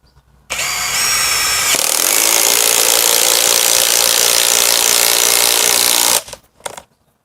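A Makita DTD171-copy impact driver with a 13 mm socket drives an 8 mm lag bolt, a loud, continuous rapid hammering rattle lasting about five and a half seconds before cutting off abruptly, with no talking.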